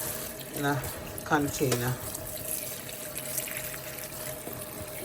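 Tap water runs steadily into a kitchen sink while gloves are washed during pepper sauce preparation, a constant hiss and splash under a person's talking.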